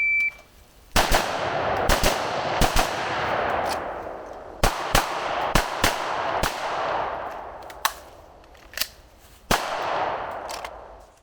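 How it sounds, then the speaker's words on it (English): A carbine and then a pistol fire in a timed shooting drill at chest-box targets, sharp close cracks in quick pairs and short bursts with ringing decay between them. "present the carbine and fire 2 rounds into each chest box, perform a transition to pistol"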